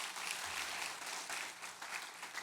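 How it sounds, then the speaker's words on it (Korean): Applause from a church congregation during a Sunday worship service in Daegu, a steady dense wash of clapping that fills the whole moment without a break. "박수 하나님께 영광 돌리겠습니다"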